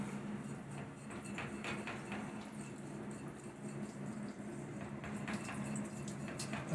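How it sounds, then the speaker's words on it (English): Water runs from a kitchen tap in a steady, faint hiss, with small clinks of dishes and occasional splashes over it, a little louder near the end. "I hear water running, so let's see what Aspen's doing."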